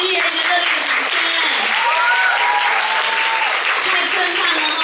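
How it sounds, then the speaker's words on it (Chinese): Loud, steady applause from an audience at a company party for a direct-sales brand, honoring the company staff, sustained throughout with a voice faintly mixed in. "要不要再给我们公司的职员一个热烈的掌声？"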